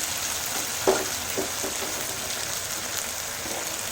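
Tomato frying in a pan for palak paneer, a steady close sizzle throughout, broken by a few soft stirring knocks, with a voice briefly heard.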